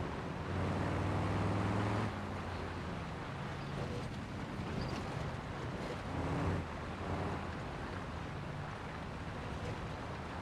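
Bruckell Nine car engine in BeamNG Drive drones steadily with a low harmonic hum that rises briefly in the opening seconds, then holds a constant rumble mixed with wind-like noise throughout.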